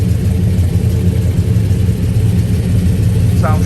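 A 1971 Chevrolet Chevelle with a freshly rebuilt engine and a 3-inch Flowmaster exhaust idles loudly and close up, a steady deep rumble with a slight lope throughout.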